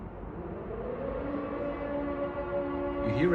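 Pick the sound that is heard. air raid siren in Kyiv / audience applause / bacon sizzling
air raid siren in Kyiv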